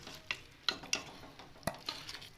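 Matar qeema being served out of a cooking pot, a series of sharp spoon clinks and scrapes against metal over a soft background hiss.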